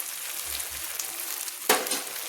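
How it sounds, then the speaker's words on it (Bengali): Ground coriander and cumin powder fry with garlic and ginger paste in a pan for a yogurt chicken curry, giving a steady close sizzle broken by one sharper scrape of stirring. "আমি ভালো করে মশলাটাকে আবারও কষিয়ে নিচ্ছি 1 মিনিট মতো।"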